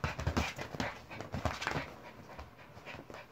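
A pet dog makes restless noise indoors at night, with quick panting breaths and soft whimpering sounds repeating close by, no one talking.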